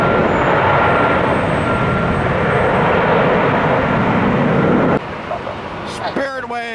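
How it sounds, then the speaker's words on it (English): A Boeing 737-700 airliner passes at a busy Tampa airport, its loud broad jet roar holding steady before dropping off abruptly, followed by faint clatter and chirps. "that 700 version of that Boeing. Short and stubby"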